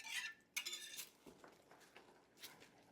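A spoon scrapes and clinks against a pan while stirring meatball gravy sauce thickening over heat, with a few sharp metallic taps and softer scraping strokes, fairly quiet and alone.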